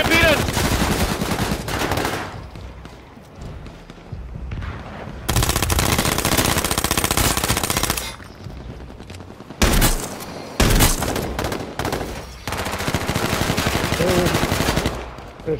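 Loud bursts of automatic gunfire from the H1Z1 Battle Royale video game, heavy sustained volleys broken by short pauses, with players talking over the shooting.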